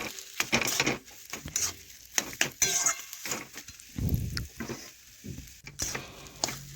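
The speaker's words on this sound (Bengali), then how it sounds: "ভালোভাবে নাড়াচাড়া করে এইভাবে মিশিয়ে নিতে হবে" Cauliflower paratha filling is stirred and mixed in a pan, with scraping and scuffing strokes and faint sizzling, alone with no talk.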